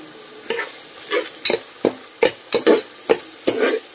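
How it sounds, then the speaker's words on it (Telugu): Tomato and cashews frying in a pan, a soft sizzle under a series of about a dozen sharp spatula scrapes and taps at an uneven, brisk stirring rhythm, close and fairly loud. "టొమాటో కొంచెం ఫ్రై అయిన తర్వాత నేను కాజుని కూడా యాడ్ చేస్తున్నానండి."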